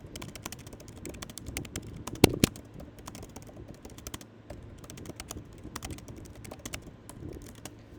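Computer keyboard typing while an essay is being written, with a steady patter of keystrokes plus a couple of sharper, louder presses partway through, close and alone.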